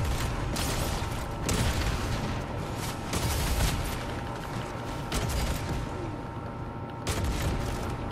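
Video game gunfire in a shooter match, with dense, rapid bursts and repeated sharp shots over a constant mechanical drone, continuous and loud, with occasional stronger blasts.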